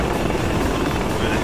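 An aircraft in the FlightGear flight simulator game powering up for takeoff, a loud continuous engine drone with rotor-like throb filling the whole moment.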